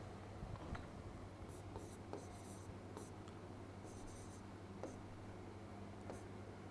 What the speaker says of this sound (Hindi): इसका फॉर्मूला लिखना है